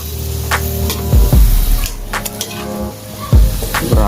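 Ingredients are sautéed in a pan, giving a loud, close sizzle broken by sharp bursts and scraping, with some tonal sounds layered over it.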